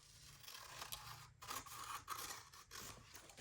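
Scissors trim paper from an old book, making several crisp close snips and rustling cuts in an uneven rhythm, fairly quiet and with no voices.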